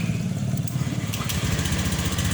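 A 2017 Honda Beat Street scooter engine idles steadily after starting, a low, even putter that runs continuously without revving.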